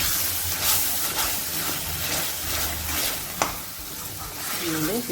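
An amla (Indian gooseberry) rice mixture, nellikai chitranna, fries in a pan with juice added, giving a continuous close sizzle and hiss broken by stirring scrapes and one sharp clink.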